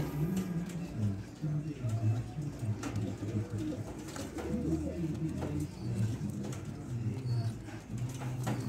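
White racing pigeons cooing at feeding time, soft overlapping coos that repeat steadily and close by, with faint human voices in the background.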